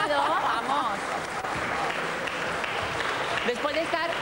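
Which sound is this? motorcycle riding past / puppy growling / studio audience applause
studio audience applause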